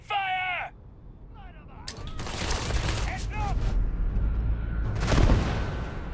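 Gunfire in the Starfield video game erupts as a dense, rolling fusillade of booming shots after a brief shouted voice, with bursts continuing loud and close until the end.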